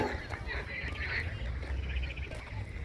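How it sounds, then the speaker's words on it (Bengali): Ducks on a lake give a few soft honking quacks over a steady outdoor murmur, fairly distant and blended with faint background voices. "হাঁসগুলি কি সুন্দর খেলা করছে"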